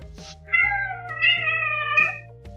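A cat meows in three drawn-out, talkative calls, close and clear, separated by short pauses in a quiet indoor room.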